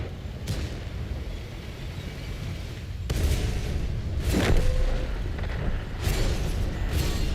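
Tank cannon fire in World of Tanks, with a KV-90 in the battle: several heavy booming shots land among constant rumbling battle noise, loudest in the middle, with no talking.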